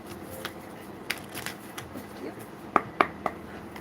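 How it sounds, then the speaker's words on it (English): Tarot cards being shuffled by hand, a series of soft riffles and slaps with a few crisp snaps toward the end, close and moderately loud. "Couple more shuffles, Spirit."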